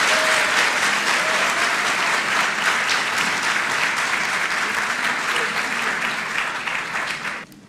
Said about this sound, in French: je vais vous demander de les encourager avec un tonnerre d'applaudissements, s'il vous plaît.